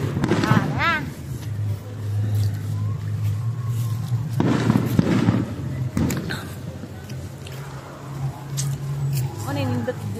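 Firework bursts crackle and pop intermittently in the distance while people talk and react close by in a city plaza.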